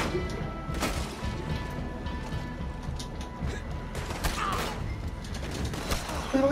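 Gunfire crackles in the Western video game Red Dead Online, several sharp scattered shots and impacts spaced irregularly across a busy game soundscape, some louder bursts near the middle and end.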